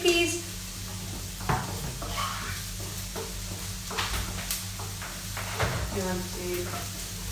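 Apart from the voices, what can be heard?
onions frying in a pan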